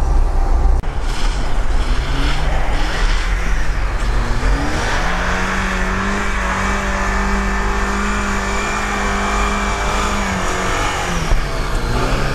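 A Ford Ranger pickup's engine revs hard in deep snow, loud and close, pitch rising and holding as it strains and wheels spin, without talk.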